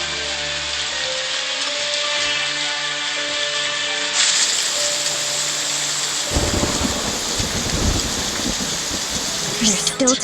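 Steady rain pours throughout a stormy night in the game Identity V, with a rolling thunder crash building midway and lingering as a loud rumble under the downpour, while faint musical tones fade beneath it.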